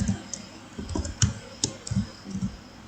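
Someone types on a computer keyboard while writing Python string code, giving irregular, close, crisp key clicks with short pauses between bursts.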